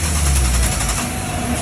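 A race car engine at the Le Mans Bugatti circuit during an 8-hour FunCup endurance race, droning steadily and loudly with a low rumble that shifts as the car pulls away.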